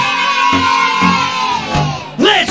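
A crowd yells and screams loudly over a driving dance remix, with steady kick-drum thumps about every half second and a rising, sweeping shout-like burst near the end.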